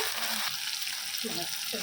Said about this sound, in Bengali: এবার মাছটা দিয়ে দেবো, এটা ভাজা ভাজা হয়ে গেছে